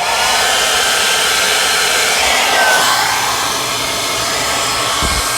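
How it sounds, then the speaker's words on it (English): A hair dryer runs continuously while being used to thaw a frozen Samsung ice maker, a loud steady blowing whoosh close by with no talking. "So let's get our hairdryer on."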